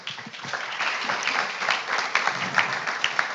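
Audience applause at a voice-technology meetup, moderately dense clapping that grows and becomes more distinct toward the end, with a few individual claps standing out.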